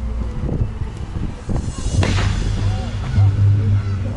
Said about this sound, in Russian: И получает первые выстрелы из форта